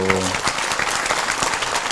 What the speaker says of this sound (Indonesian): Sekali lagi tepuk tangan untuk beliau.